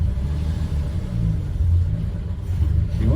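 A VJ Dodge ute's engine rumbles low and steady as the old car pulls away in low gear, a close, continuous drone without clear revving peaks.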